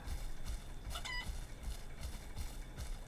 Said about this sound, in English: Okay, I hear the chicken. There it is.